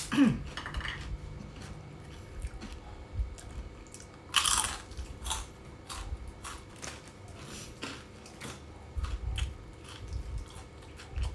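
Crunchy food, cabbage and fresh vegetables at an evening meal, being bitten and chewed close up in a series of crisp crunches, with faint clinks of dishes and cutlery and no talking.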